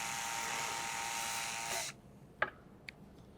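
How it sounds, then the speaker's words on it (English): A drill with a 1/8 inch bit boring pilot holes into carbon fiber: a loud, steady high whine for about two seconds, then it cuts off, followed by a couple of sharp clicks. "I use an 1/8 inch bit just to do a pilot"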